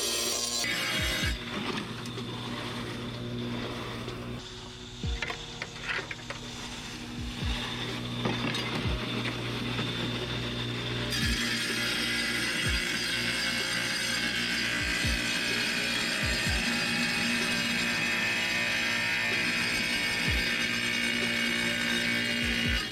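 A cheap 7-inch tile saw fitted with a DeWalt masonry blade runs steadily up close, its motor whine continuous with a brighter, louder cutting tone setting in partway through, punctuated by occasional clicks and knocks.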